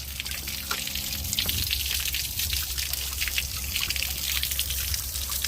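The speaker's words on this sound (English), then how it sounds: "Good flow on that side." Water flows from a hose on a Yamaha 425 XTO outboard boat engine, a steady close trickle and gush that runs continuously throughout.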